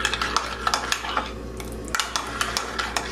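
A spoon stirs coffee made in a Nescafé Dolce Gusto machine, clinking regularly against the cup, close and moderately loud.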